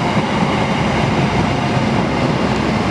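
Argo Wilis and Kamojang passenger trains crossing at a station, a loud continuous rumble of rolling wagons and wheels on rails, close and steady with no voices.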